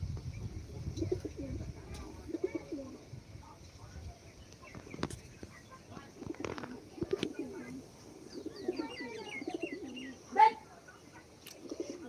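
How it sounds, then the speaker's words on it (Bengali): Pigeons kept outdoors on a roof coo softly in low, rolling phrases, with a few faint higher chirps from other birds in a quiet setting and one brief sharper sound near the end. "আর পায়রা দেখতে পাচ্ছেন এই পায়রাগুলো অ্যাকচুয়ালি ঘরেতে থাকে না এরা শুধু বাইরেই থাকে"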